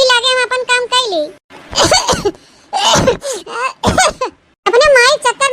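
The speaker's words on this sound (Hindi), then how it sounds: "पता नहीं कैसे गटैया सहरात बाटे, मने खांसी आवत बा है" A cartoon character coughs in several harsh, breathy bursts between stretches of animated voices talking, close and loud.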